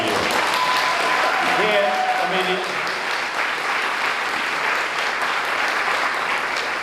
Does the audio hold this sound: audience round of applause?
yes